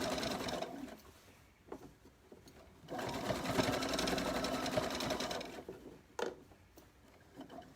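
Sewing machine stitching around the hem of a children's t-shirt dress: a steady mechanical whir in bursts, one short run, then a long continuous stretch, then brief starts and stops, close and loud with no talking.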